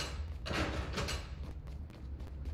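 A door slides open in the puzzle game Slides & Doors Escape 2, giving a brief soft whoosh and thud around the middle of a quiet, short moment.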